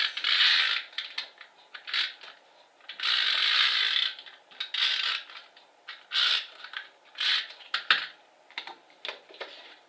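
A Stampin' Up! Snail adhesive roller runs glue tape across cardstock in repeated close, crisp ratcheting bursts of clicking, some long and some short, with no talking.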